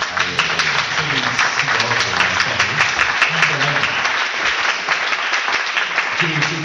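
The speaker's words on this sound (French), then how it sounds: "qui mérite une main d'applaudissement" Applause from an audience at a citizenship-week gathering at a Montreal college, dense and steady throughout with murmured voices and faint speech beneath the clapping.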